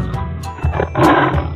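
A tiger roars in a short burst over a busy background of other noise, with a louder rasping swell near the end.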